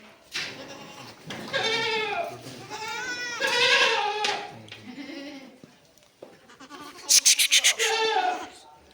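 Young goat kids about two and a half to three months old bleat on a goat farm, several loud, close calls following one another, with a burst of rapid quavering bleats near the end.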